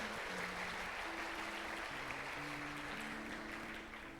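A church congregation applauds steadily, a broad wash of clapping from many hands at moderate distance, fairly soft overall with a faint sustained musical tone underneath, tapering slightly at the end.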